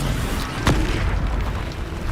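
A Bombarda explosion spell cast in Hogwarts Legacy gives a single brief, sharp boom over a steady background of game noise.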